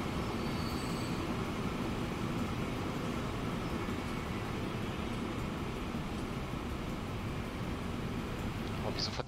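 Trains roll along the tracks in Transport Fever 2, a steady, unbroken rumble of rail traffic that holds at an even, moderate level throughout.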